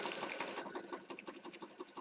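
A sewing machine runs in quick, even pulses while stitching paper and fabric for a pink and black junk journal, heard fairly faint and steady with no talking.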